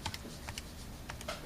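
Fingers tap on a computer keyboard in a quick, irregular burst of light clicking keystrokes, close and fairly quiet against a soft background hiss.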